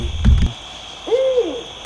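Single owl hoot at night outdoors near a bridge, a smooth drawn-out call heard once at moderate distance after a brief low thump, with a steady faint hiss of insects or background noise.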